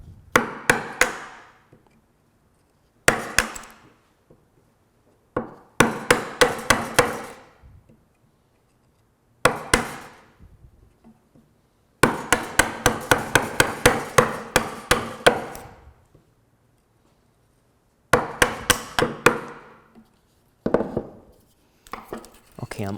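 A mallet drives a chisel into a piece of wood held in a vise, sharp repeated strikes in short rapid clusters separated by pauses, close and crisp.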